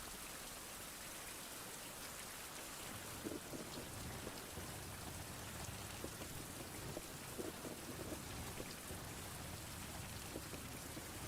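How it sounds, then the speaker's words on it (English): Heavy rain pours steadily in the game Lone Survivor, a dense, constant hiss with low rumbles of thunder rolling underneath, no voices over it. "It is super rainy"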